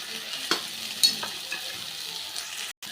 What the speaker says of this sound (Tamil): இதையும் கொஞ்சமாக வதக்கிக்கலாம்